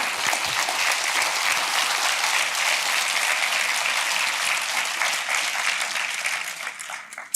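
Sustained applause from a church congregation during a Spanish-language sermon, loud and steady throughout, with dense clapping that tapers slightly near the end.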